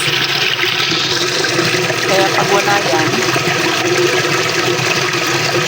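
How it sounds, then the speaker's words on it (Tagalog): Loud, steady rush of strongly flowing, waterfall-like water from newly made drainage in Purok 7, Isabela, filling the whole clip, with people talking over it. "yun ang tubig na lakas. Parang waterfalls."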